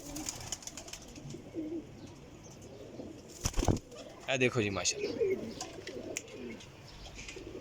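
Pigeons at a pigeon loft give a burst of wing flapping, then soft cooing and rustling, close by, while someone speaks briefly.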